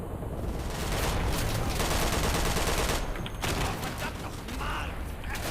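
Heavy strafing-run gunfire from an attacking aircraft in the WWII shooter Day of Infamy, a dense, loud, continuous rattle of bursts filling the battlefield with chaotic din throughout.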